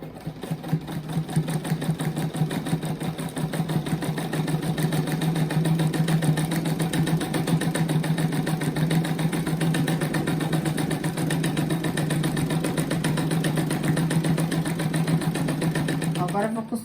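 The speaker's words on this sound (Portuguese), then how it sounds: "Agora eu vou costurar essas bochechas e o nariz" A sewing machine stitching the cheeks and nose onto a felt rabbit placemat, running as a steady fast mechanical hum and chatter for the whole stretch without stopping.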